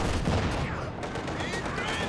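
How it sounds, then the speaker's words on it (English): An MG42 machine gun in a war strategy game lays down a dense, rapid barrage, loud, close and unbroken for about two seconds. "This barrage. Coming off the MG42."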